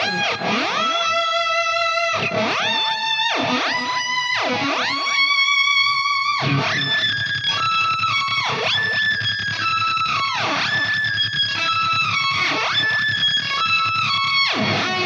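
Electric guitar played through a Helix pedalboard with delay and distortion, loud lead phrases with sustained bent notes and repeating delay echoes, alone without talk.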